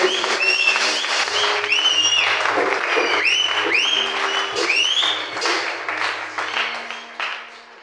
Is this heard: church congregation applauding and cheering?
yes